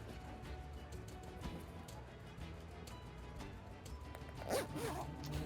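A clothing zipper is pulled during a tabletop fantasy roleplaying session, a short scratchy zip rising near the end over low background room noise, with no talk.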